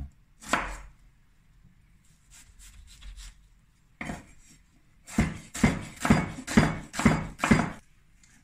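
Knife chopping onion finely on a board for a smoked salmon salad: a few isolated cuts, then a rapid, loud run of evenly spaced chops near the end, up close with no talk.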